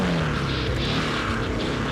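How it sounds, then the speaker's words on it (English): A Kawasaki KLX 300 four-stroke 300 cc dirt bike on an AMA enduro trail at Leaf River roars in a loud, close, steady drone with no pauses. "So far, this 4-stroke engine, it's only 300 cc's, but it performs perfectly."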